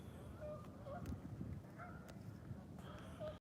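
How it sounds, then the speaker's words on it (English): A flock of geese honks repeatedly beside icy cold water, with scattered calls rising over a constant low wind-like rumble. "Look at these geese, y'all."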